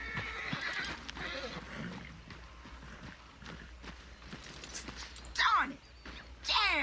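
A horse in Red Dead Redemption 2 whinnies twice in shrill bursts near the end, over faint hoof clops and a quiet muffled background.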